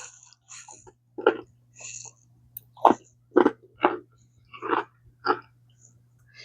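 Homemade almond roca toffee crunches between teeth in close, distinct bites, about seven sharp chewing crunches spaced across a quiet room with a faint steady hum underneath.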